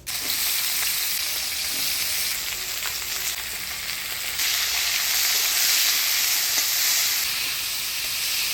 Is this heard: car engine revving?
no